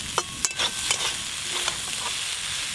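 Potatoes and onion greens fry in a pan with a soft, steady sizzle. A spatula scrapes and clinks against the pan several times in quick, uneven strokes.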